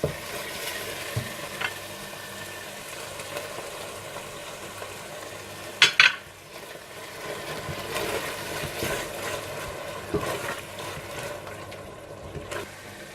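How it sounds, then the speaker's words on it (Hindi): Yogurt being stirred into a thick tomato masala in a pan for gola dum kabab, a steady soft sizzle with scraping spoon strokes throughout and a brief louder clatter midway. "आप इसमें दही डालकर मिला लें"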